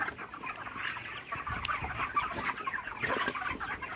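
Broiler chickens about 34 days old, some sick with ascites, cluck steadily inside a poultry shed, with many birds calling at once in a dense, continuous chorus at moderate volume.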